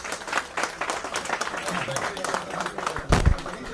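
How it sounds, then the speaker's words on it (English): Audience at a business conclave applauding a panel: a steady patter of many hands clapping at moderate distance, with a few louder close claps near the end and faint voices mixed in. "Can we have a round of applause for this wonderful panel"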